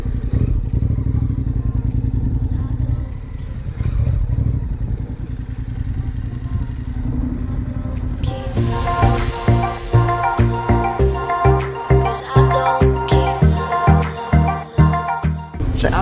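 Honda NC700X motorcycle ridden through abandoned buildings, heard from a helmet-mounted microphone: a steady engine drone and wind rumble, then after about eight seconds a louder, throbbing engine note with clattering and thumps as the bike moves on.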